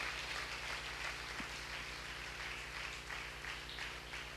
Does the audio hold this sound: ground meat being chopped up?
no